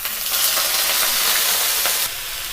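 Cauliflower and potato sauté in hot oil for a Bengali cauliflower singara, giving a loud, steady sizzle and hiss that drops off slightly near the end, with no talk.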